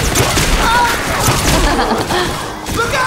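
Dense, continuous gunfire from the zombie shooter video game Left 4 Dead 2, a loud wash of overlapping shots and game noise with voices shouting through it.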